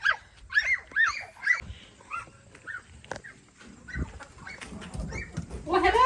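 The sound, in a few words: chickens clucking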